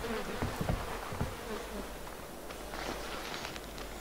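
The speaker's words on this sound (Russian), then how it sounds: "Мухи кругом сплошные." Flies buzz around an abandoned house in the horror video game Outlast 2, a faint insect drone mixed with soft footsteps and rustling.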